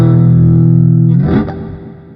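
Electric guitar played through a Jimi Hendrix amp simulation in Amplitube 5, a sustained distorted chord ringing with long reverb, then a fresh strum that blooms and decays.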